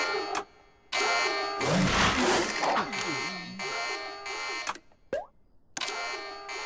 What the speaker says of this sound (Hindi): मैं ये बटन दबाता हूँ तो अचानक से अलार्म क्यों बज रहा है?